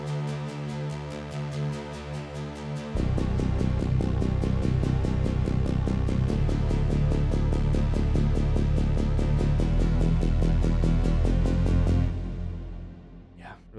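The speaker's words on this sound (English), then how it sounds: "instead of bass, we have these two air cellos with OTT and EQ and compressor" Two layered air cello synth patches run through OTT, EQ and compression, giving a classic 80s synth feel: steady pulsing repeated notes, louder after a few seconds, then a sudden cut near the end.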